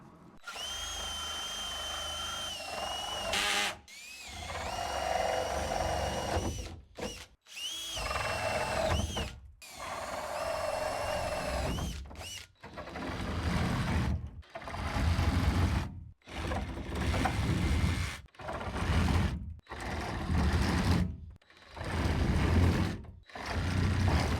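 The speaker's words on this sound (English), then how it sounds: "Let me go ahead and cut these notches" Power tool cutting notches into a 275 gallon plastic tote for a composter, loud repeated bursts of whining motor and cutting with brief pauses between passes, no talking.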